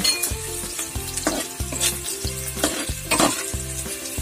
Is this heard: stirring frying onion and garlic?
yes